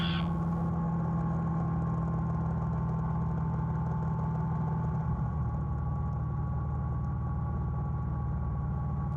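Challenger II light sport aircraft engine with throttle pulled back in flight, a steady mid-pitched drone with a faint high whine that fades early, continuous and near, no voices.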